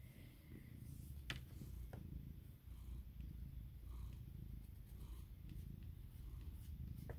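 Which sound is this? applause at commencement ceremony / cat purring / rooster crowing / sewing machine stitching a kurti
cat purring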